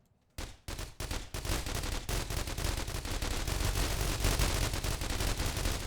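Dense rapid gunfire in the zombie video game The Walking Trade, a few opening shots then a continuous loud automatic barrage with overlapping bursts that keeps going without a break.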